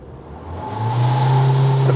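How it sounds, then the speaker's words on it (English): A 2023 Isuzu D-Max pickup accelerates hard in reverse during a speed test, its engine note swelling and rising in pitch as revs build, loud and close, with no talk. "Okay, reverse speed test time."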